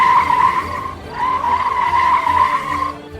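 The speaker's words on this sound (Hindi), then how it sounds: "गाड़ियां रुकने लगती हैं।" Traffic on a main road braking hard, with a loud sustained tire screech that dips briefly and resumes before fading, close and alone.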